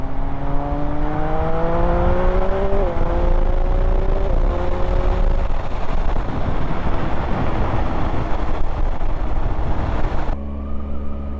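A 2019 Triumph Speed Triple RS motorcycle engine pulls loudly while riding, its tone rising through the gears with shifts, under heavy wind rush, then steadies into a lower drone near the end.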